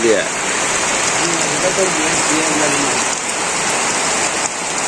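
Rain pours steadily onto a village roof in Bangladesh during a storm with wind, a dense, continuous hiss of drops close by that holds an even level throughout.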